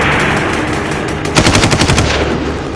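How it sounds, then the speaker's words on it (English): Small arms and machine gun fire in combat during the assault on Baghdad airport in Iraq in 2003, a loud, rapid burst of about nine shots over a steady roar of background noise, with no talking. "After that, more RPGs and small arms fire started going on."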